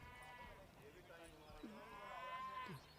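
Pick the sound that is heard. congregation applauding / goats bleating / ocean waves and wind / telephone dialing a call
goats bleating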